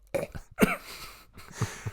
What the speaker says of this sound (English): This man's gonna be coughing.